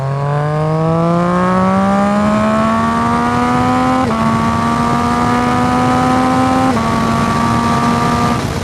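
A motorcycle accelerates hard from 60 to 130, its loud close engine note climbing steadily through two gear shifts heard as brief dips in pitch.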